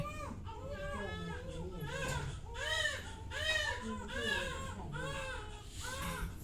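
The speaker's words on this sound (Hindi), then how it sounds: "पूरी रात बच्चों को रोने की आवाज़" Newborn babies crying in a hospital ward, with repeated rising-falling wails in rhythmic bursts, fairly close and loud, over a steady low background hum.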